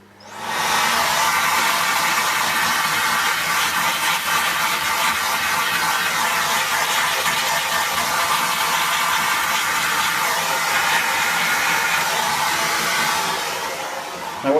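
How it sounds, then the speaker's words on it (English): A cordless Dyson V6 or V8 vacuum runs at a loud, steady, high-pitched whine and airy roar for the whole stretch while it cleans the powerhead shroud, then spins down at the end. "we'll give this shroud a good vacuum off"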